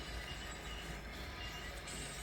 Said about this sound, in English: we're gonna shove those cars back